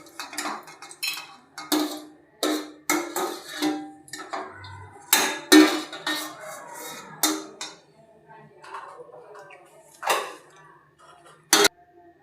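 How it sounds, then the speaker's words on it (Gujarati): Roasted cashews and almonds are scooped out of hot ghee into a bowl, giving a run of clinking, clattering metal-on-metal taps and scrapes with short pauses, close and fairly loud. "હવે આપણે એક વાટકામાં કાઢી લેશું।"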